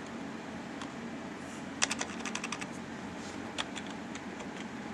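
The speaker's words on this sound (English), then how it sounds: "Yeah, I'm start typing here." Fingers tap on a computer keyboard to enter a password, a few scattered clicks and then a quick flurry of keystrokes over faint room noise, no talking.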